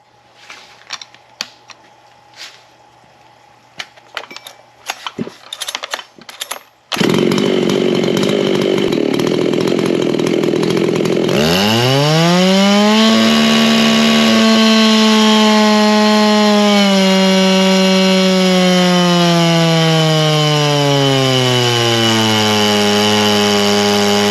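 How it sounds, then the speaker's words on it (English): An Echo CS-501P chainsaw with a muffler mod and a ported engine starts after a few handling clicks, then revs loud and close at high speed. Its pitch sweeps up and holds, then sags slowly while it runs on. "I got it all warmed up, so it should fire right up, and we'll be able to make a few pulls and get our power output on it."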